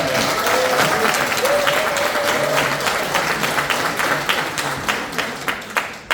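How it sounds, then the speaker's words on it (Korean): A seated audience in a National Assembly meeting room breaks into sustained clapping, loud and dense throughout, slowly thinning toward the end with a few distinct claps standing out. "박수 한번 중간 박수 한번 칠까요?"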